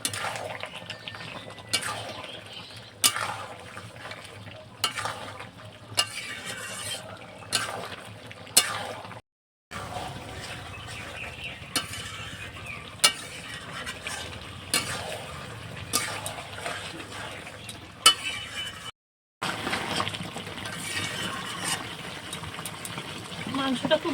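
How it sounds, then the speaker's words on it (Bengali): Country (desi) chicken sautés in a pot with a little water in a village kitchen, a steady sizzle broken by repeated scraping stirs and clinks of a utensil against metal, with a voice talking now and then. "মাংসটা খুব ভালো করে কষিয়ে নেব।"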